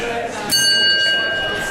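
A bright bell rings once, its clear metallic tone hanging and slowly fading over a steady background hum.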